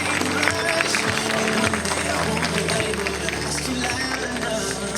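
Audience at a wedding fair fashion show applauds the models, a dense continuous wash of clapping mixed with crowd noise and music, fairly loud throughout with voices underneath.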